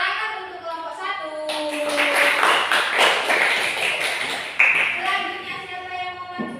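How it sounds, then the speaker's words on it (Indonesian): A class of schoolchildren claps for the first group after its presentation, a dense burst of hand claps in the middle of the clip with children's voices talking before and after. "Tepuk tangan untuk kelompok 1."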